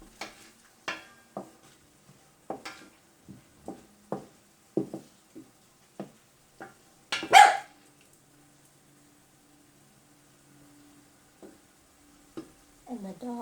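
A small dog barks in a home kitchen while food sizzles in a pan, a run of short, evenly spaced yaps followed by a louder burst, then quiet frying hiss.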